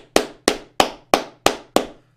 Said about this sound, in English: I'm going to give third wave feminists at this conference a round of applause